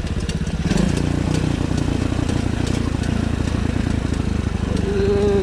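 A Racer 110 motorcycle engine idles and chugs up close in a steady low throb, with a gear clunk as it drops into first and a brief whine near the end.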